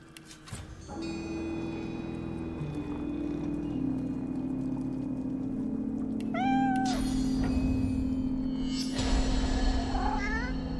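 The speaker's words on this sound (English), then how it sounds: "What a kitty." A cat meows in the video game Divinity, a few distinct rising-and-falling calls near the middle and end of the clip, heard over a steady game music and ambient background.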